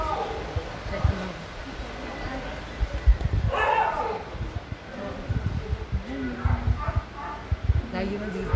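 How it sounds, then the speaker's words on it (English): Puppies at an animal shelter yip, bark and whimper in scattered bursts close by, with a person talking over the commotion and a constant background hum. "There are these beautiful puppies for adoption."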